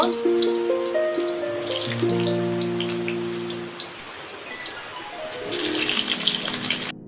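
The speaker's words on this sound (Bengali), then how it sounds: "দেখুন এবার মাংসের আলুটা আমরা এর মধ্যে দিয়ে ভেজে নেব" Potatoes for a chicken curry tipped into hot oil in a wok, bursting into a loud crackling sizzle that eases off, then swells again near the end, close up with no voices.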